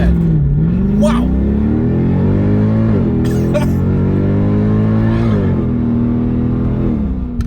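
A 2007 Mercedes-Benz CLK63 AMG accelerating hard, its exhaust note rising in pitch through several gear changes with brief dips between shifts, loud and close from inside the car.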